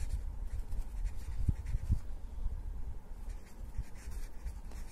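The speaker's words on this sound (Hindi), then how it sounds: "तो आप यहां लिख दोगे" Marker or chalk strokes on a board during a maths lesson on linear equations, a series of soft scratchy taps and scrapes close by, with no talk.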